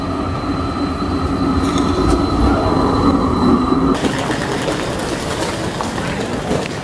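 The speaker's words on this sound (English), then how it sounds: "We're now in West Croydon, waiting for a tram." A tram at West Croydon in London rumbles loudly and steadily nearby, with a continuous wheel and rail roar and a faint high squeal, and no voices.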